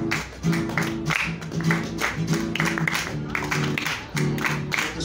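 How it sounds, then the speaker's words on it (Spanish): A group claps along in a steady rhythm to a cueca, with a sustained musical tone and some talk underneath, fairly close and continuous. "Ayudamos con las palmas, un poquito de palmas."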